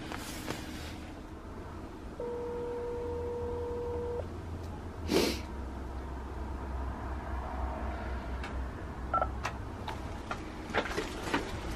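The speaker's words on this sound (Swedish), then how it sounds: "Så nu måste jag alltid ringa på porttelefonen och vänta på att hon svarar och släpper in mig." A door intercom at a building entrance sounds a steady electronic buzzing tone for about two seconds, then a sharp click, set against a low outdoor background rumble with scattered faint ticks.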